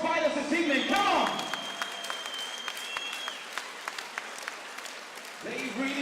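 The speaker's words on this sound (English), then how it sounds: "Ladies and gentlemen, round of applause for both fighters this evening." A fight-night crowd applauds both fighters after a close bout, with scattered clapping and cheers at a moderate distance. An announcer's amplified voice speaks at the start and again at the end.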